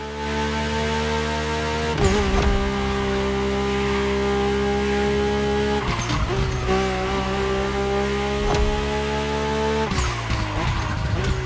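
A Mercedes AMG One hypercar in The Crew Motorfest screams loud and high-pitched through the gears, its steady engine tone broken by sharp shifts or tire squeals roughly every four seconds.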